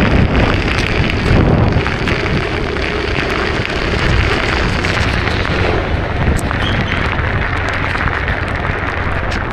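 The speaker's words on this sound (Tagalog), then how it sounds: "Lakas ng ulan." Heavy rain pounds down during a ride home, a dense, loud and constant hiss mixed with buffeting wind against the microphone, unbroken throughout with no voices.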